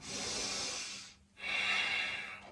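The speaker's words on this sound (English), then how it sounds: "Good breathing." Slow, deep breaths during a kids' yoga session: a long airy exhale, a brief pause, then another steady breath, close and clear with no talking.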